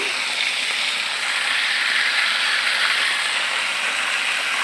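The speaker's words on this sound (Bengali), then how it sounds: "এখন আমি আলু আর পটল ভেজে নিচ্ছি।" Potatoes and pointed gourd fry in a pan, giving a loud, steady, dense hiss and sizzle that carries on evenly with no break.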